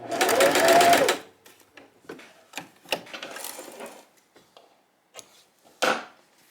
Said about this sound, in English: stitch 1/4 of an inch along the side until we get 1/4 of an inch away from the end. Back stitch again.